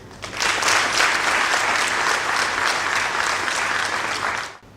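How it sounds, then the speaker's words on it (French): Audience at an official launch ceremony for Côte d'Ivoire's infrastructure renewal project applauds the infrastructure minister, a loud, full, sustained burst of clapping that holds steady and then cuts off abruptly. "je demande d'applaudir."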